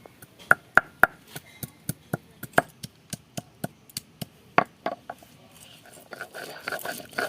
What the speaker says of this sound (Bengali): আদাটা বেটে নিচ্ছি।